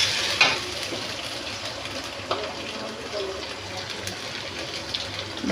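Spices added to hot oil in a pan while cooking Bangladeshi kochur loti, giving a steady moderate sizzle with a few small pops and clicks, close by and without speech.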